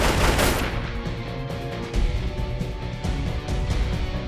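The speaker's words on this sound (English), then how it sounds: "Bullets whizzed in both directions." Gunfire trading back and forth in the visual-novel game 428: Shibuya Scramble, a loud continuous rattle of rapid shots with repeated bursts throughout and no voices.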